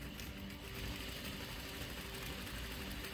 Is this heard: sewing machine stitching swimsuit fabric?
yes